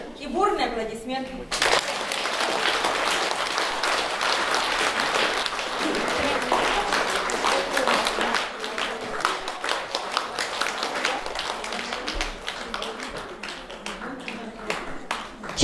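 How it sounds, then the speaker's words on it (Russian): Enthusiastic audience applause at an award ceremony of the Altynai league conference: after a brief opening, dense, vigorous clapping from a large crowd swells and holds loudly, tapering slightly near the end. "И бурные аплодисменты."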